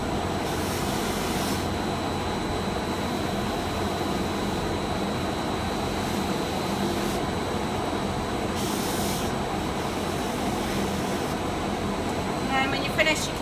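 A polishing machine buffs a piece to a high shine, running as a steady loud whirring hum throughout, with a brief rattle near the end.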